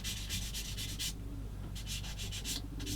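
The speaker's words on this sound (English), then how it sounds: "Now I will sand it just lightly." Light sanding of a small plastic part for a 1/35 scale model kit, brisk rhythmic rubbing strokes in two bursts separated by a short pause, close and fairly loud with a low background hum.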